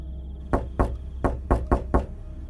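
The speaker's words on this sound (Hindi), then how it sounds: "दरवाजे पर जोर से खटखटाहट हुई।" Loud knocking on a door late at night in a Hindi horror cartoon story, six heavy raps in an uneven series, close and alone with no voices.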